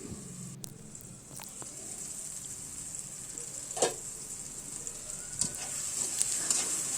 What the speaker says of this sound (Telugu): ఉల్లిపాయలు ఫ్రై అయింది కట్ చేసి పెట్టుకున్న ఒక చిన్న టమాటాని కూడా వేసుకున్నాను